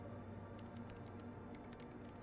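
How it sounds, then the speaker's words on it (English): Typing on a computer keyboard in the video game Disco Elysium, quick irregular key clicks tapping faintly over a low steady hum of background ambience. "She's typing away."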